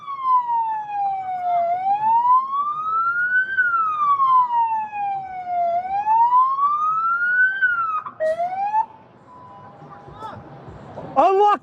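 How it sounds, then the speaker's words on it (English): A police car siren wails up and down repeatedly, loud and close, then switches to a few short, sharp yelps before stopping, during a police standoff. "Turn off my siren! Siren!"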